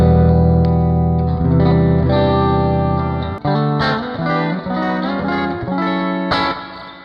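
Electric guitar through a Jimi Hendrix amp simulation in Amplitube 5, bass turned down to about 8: overdriven sustained chords ring out, then a brighter choppy riff of short strummed chords, close and loud with a touch of echo.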